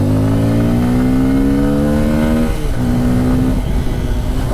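A Bajaj Pulsar N250 motorcycle engine revs hard on a ride, climbing through a steady, loud, close accelerating drone, then shifts and climbs again.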